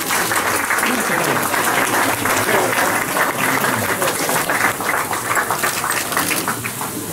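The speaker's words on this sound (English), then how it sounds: "I'm just going to ask for a round of applause" A crowd at a birthday party in Ljubljana applauds a birthday cake, with dense, steady clapping filling the room throughout, loud and sustained with scattered voices mixed in.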